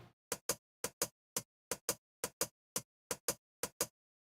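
Original processed hi-hats play a sparse pattern of short, dry, clicky hits, often in quick pairs with gaps between, alone and faint.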